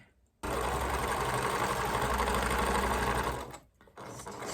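A sewing machine stitches quilt blocks together, running in a fast, steady whir for about three seconds, pausing briefly, then starting up again.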